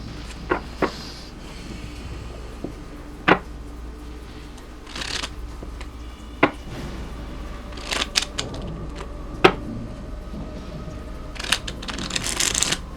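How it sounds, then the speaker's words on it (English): Tarot cards are shuffled in quick riffles and soft slides, with sharp snapping bursts spaced irregularly over a quiet, close background. "I'm going to try for one more good shuffle"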